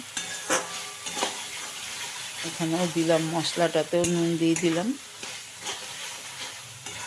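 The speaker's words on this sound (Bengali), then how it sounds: "দিয়ে একটু ভালো করে কষিয়ে নিয়েছি নুন দেওয়াতে তাড়াতাড়ি মটরশুঁটিটা সেদ্ধ হয়ে যাবে" Peas and spices stir-fried in a pan, a continuous sizzle with spatula scrapes and clinks, close up, while someone talks over the cooking.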